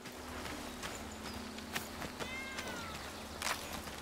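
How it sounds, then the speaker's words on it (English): A cat meows in the video game Blacktail, a short close call over game ambience with soft footsteps and a few brief clicks. "Oh, now the cat is here."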